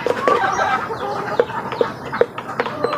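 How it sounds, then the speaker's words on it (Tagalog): Chickens cluck and peep in a loud, close flock, with short bursts of calls at irregular intervals over a steady background. "Ito yung aking mga sisiw."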